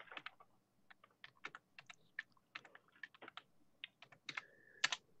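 Typing on a computer keyboard, rapid irregular clicking keystrokes close to the microphone, with a few louder key presses near the end.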